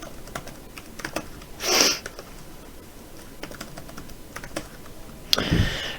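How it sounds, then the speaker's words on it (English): Typing on a computer keyboard while entering a random password during user registration: scattered light key taps, quiet and close, with a couple of louder bursts and no talking. "Go to the password, you just type in a random password."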